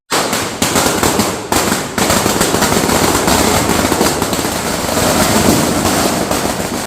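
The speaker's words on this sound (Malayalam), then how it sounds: "അവിടെ പടക്കം പൊട്ടിച്ചപ്പോൾ ഞങ്ങൾ അതിൻ്റെ അടുത്തായിരുന്നു നിൽക്കുന്നുണ്ടായിരുന്നത്" A long string of firecrackers bursts in a dense, rapid crackle, very loud and close, with only a brief break before the popping carries on.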